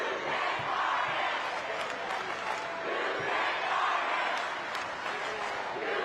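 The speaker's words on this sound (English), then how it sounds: "Listen to this crowd." A large indoor crowd at a high school boys basketball state championship final roars and cheers continuously, a loud sustained wall of voices with rising and falling swells throughout.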